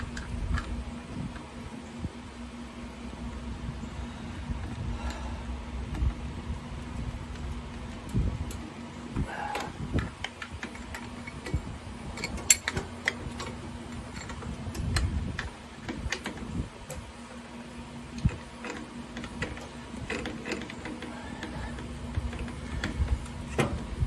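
Close metallic ticks and small clicks of a 9/16 wrench tightening carburetor nuts on a 1923 Ford Model T Touring, irregular and light over a faint steady hum, with no talking.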